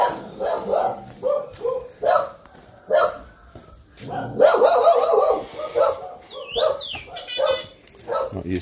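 A dog barks and yips from a back alley of Tuy Hoa, Vietnam, in the early morning, a few sharp bursts mixed with street sounds, while someone talks nearby and a bird chirps briefly.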